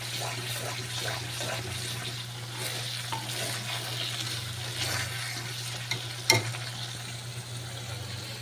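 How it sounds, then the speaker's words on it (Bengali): Spice paste sautéing in oil as the oil starts to separate: a continuous close sizzle with rhythmic stirring scrapes over a low steady hum, and a sharp clink near the end. "মশলাটা কষানো হচ্ছে, অনেকটাই হয়ে গেছে, তেল ছাড়তে শুরু করেছে।"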